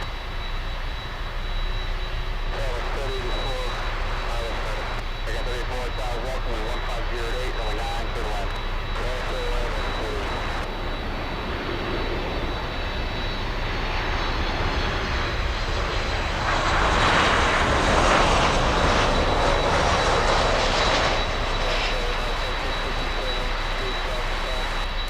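A Boeing 737 MAX 8 jet comes in to land at Miami airport, a steady roar of engine noise throughout that swells louder near the end, with a person talking over it early on.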